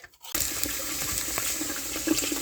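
Tap water gushing into a pan for a beef rib dinner, starting abruptly after a brief quiet moment and then running as a steady, close, loud splashing stream.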